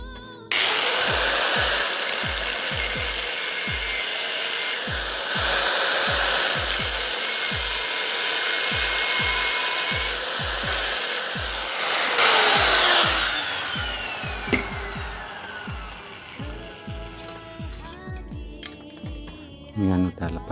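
A grinder works on a washing machine motor part, a loud, sustained high whine with repeated rhythmic knocks under it. The whine winds down near the end, leaving scattered clatter and faint voices.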